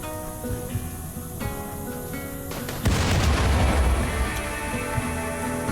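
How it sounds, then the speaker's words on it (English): Power cells detonating in Rimworld, a loud booming blast that erupts midway through steady game music and rumbles on for several seconds. "Remember what I said about the power cells just detonating?"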